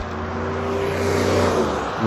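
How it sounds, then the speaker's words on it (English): A car rushes past nearby, its engine and tire roar swelling loudly and steadily over about two seconds, with no voices heard. "I hope these cars aren't too loud for you."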